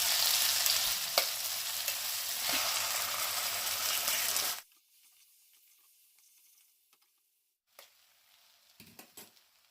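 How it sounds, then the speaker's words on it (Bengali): Eggs fry in ghee with spices in a pan, a loud bright sizzle with stirring scrapes for several seconds, then dropping abruptly to near quiet with a few soft clinks and scrapes. "এই গর্তে আমি 1 চামচ ঘি দেবো, আর একটা করে ডিম ফাটিয়ে দিয়ে দেবো।"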